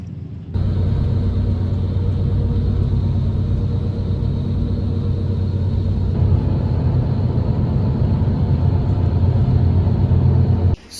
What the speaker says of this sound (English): It's a 2-floor bus and I am traveling on second class, so therefore I have to sit on the upper deck.